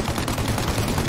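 Dense, loud gunfire in the Mafia: Definitive Edition video game, a rapid crackling barrage of shots that fills the whole moment without a break.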